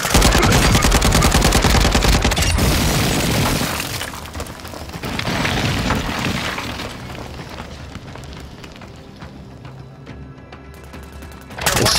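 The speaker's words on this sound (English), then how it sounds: "Friendly airstrike on the way." Friendly airstrike in the battle royale game Warzone 2: loud, dense bursts of machine-gun-like fire with shattering crashes and explosive booms, strongest at the start and again at the very end, softer rumble in between.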